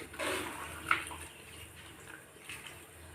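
Water and coconut milk pour into a pot with a soft gushing splash while making biryani, then taper off to quiet trickles and light drips.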